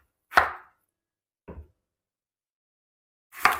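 Knife chopping ash gourd into small pieces on a cutting board: three separate sharp chops, the first and last loud and near, a softer one in between, with silence around them.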